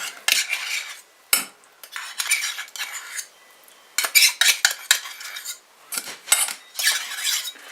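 A metal spoon scrapes and clinks around a mixing bowl of banana and pumpkin dog-cookie mix in repeated bursts of scraping strokes, close and fairly loud, with brief pauses between.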